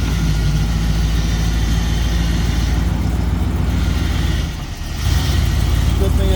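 A 1997 Ford engine running steadily, a loud, constant low rumble close by with a brief dip partway through, while people talk over it.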